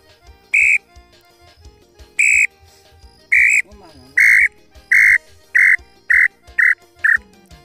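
A handheld bird-call whistle imitates a tinamou in a series of sharp, loud piping notes: two spaced calls, then a quicker run of short whistles, close up and alone over faint background noise.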